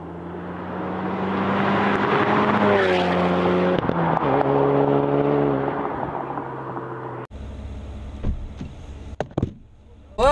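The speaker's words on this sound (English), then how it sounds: "jump in to the Vanquish for a bit of fun and a bit of tuition of canyon" An Aston Martin Vanquish engine roars on canyon roads, rising and falling through gear changes for about seven seconds, loud and close, before cutting to quieter cabin noise with a few knocks.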